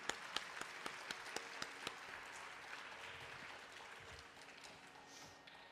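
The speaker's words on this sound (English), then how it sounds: "So let's give them a big round of applause." Audience applause at a classical Indian dance arangetram with orchestra accompaniment, opening with a few distinct claps that merge into a steady, moderately distant wash of clapping across a hall.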